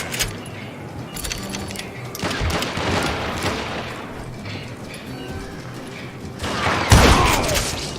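Gunfire from the Western shooter game Call of Juarez: Gunslinger: scattered shots and bursts over a noisy background, with a louder, close blast near the end.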